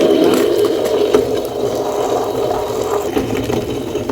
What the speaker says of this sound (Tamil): இப்போ கல்கண்டையும் நம்ம வந்து பொடி பண்ணி சேர்த்தாச்சு